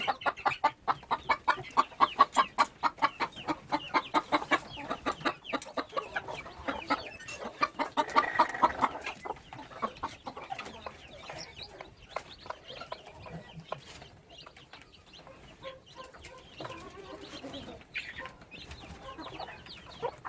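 Chickens cluck busily around a hen with newly hatched chicks on a rural farm, a dense run of close, sharp clucks and chirps that is loudest early and thins to quieter scattered calls later.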